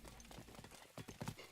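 A white horse's hooves clip-clop in The Legend of Zelda: Breath of the Wild, a quick run of faint, uneven hoofbeats on ground over a low game background, with no talking.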